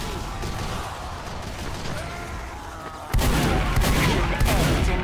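Gunfire in the Team Fortress 2 video game: game noise and rumble give way to loud, dense bursts of shots and impacts that begin abruptly partway through and continue to the end.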